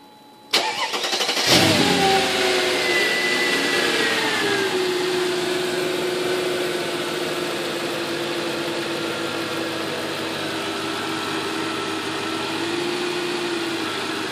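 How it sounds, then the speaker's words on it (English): A car engine is cranked by its starter under Arduino control: a brief whirring crank, then the engine catches with a loud burst and settles into a steady, even idle close by for the rest of the time, no voices. "we'll hit the starter for about a second or so"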